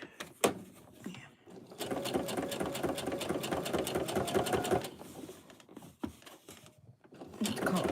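A sewing machine understitching the seam allowance on a male scrub top, running in a steady rapid stitching rhythm for several seconds between a few short clunks and stops, with faint voices talking nearby.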